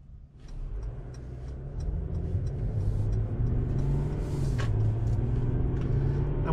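A Mercedes-Benz E-Class AMG saloon pulls away and drives on, its engine rumbling low and steady and building gradually as it gathers speed.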